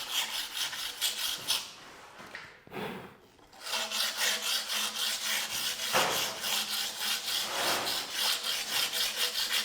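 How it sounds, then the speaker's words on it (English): Handheld sanding pad with a Velcro-backed abrasive cleaning up the edge of a built-in cabinet, a steady close rasping rub in repeated back-and-forth strokes, briefly pausing near the middle before continuing. "it's got this handheld pad. You just take this and it attaches with Velcro."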